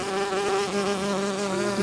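A steady, droning buzz of bees, constant and close, with no pauses, like a swarm hovering nearby.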